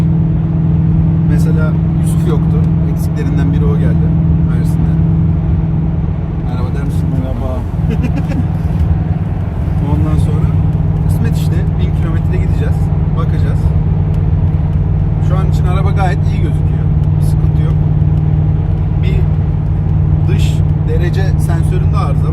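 A BMW M5 driving on the road produces a steady engine drone and continuous tyre and road rumble from inside the car, with occasional knocks and rattles throughout.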